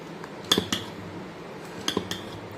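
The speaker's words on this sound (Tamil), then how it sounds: "உப்பு போட்டு அதையே நல்லா மிக்ஸ் பண்ணி விடுங்க." Beetroot dosa batter mixed with salt in a bowl, with a few quiet, close clinks of a spoon against the bowl in two small clusters over a low background hush.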